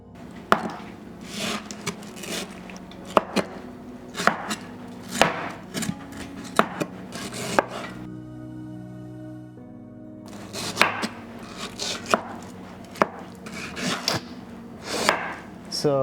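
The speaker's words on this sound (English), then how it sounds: "we are now cutting the mango into pieces like this." A knife chops through soft fruit onto a wooden board in irregular close taps and scrapes, pausing briefly midway before the cutting resumes.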